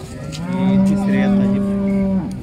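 A cow moos once, a long, deep, close bellow lasting about two seconds at a livestock market, with faint background noise and no talk.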